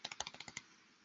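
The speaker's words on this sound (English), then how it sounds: "if you just start typing in read, it should populate this" Typing on a computer keyboard: a quick run of about nine crisp key clicks in steady rhythm, close and fairly quiet, then stopping.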